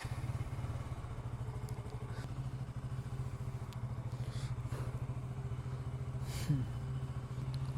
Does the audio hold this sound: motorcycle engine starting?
yes